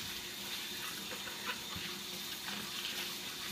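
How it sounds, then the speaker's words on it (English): Tap water runs steadily into a sink while vegetables for a green juice are rinsed, a constant close gushing wash with faint knocks of handling, no talking. "Got to make sure that you always wash your vegetables the best you can."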